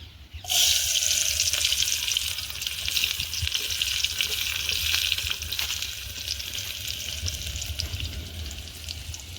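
Onions drop into hot oil and burst into a sudden, loud sizzle that continues as a dense, steady crackling hiss, easing slightly toward the end.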